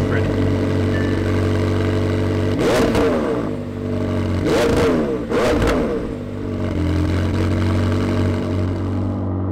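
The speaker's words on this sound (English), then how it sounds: "So without further ado, we're gonna go ahead and start it up." A McLaren 720S engine idles with a steady low hum. It is blipped three times into sharp, rising revs that quickly fall back to idle.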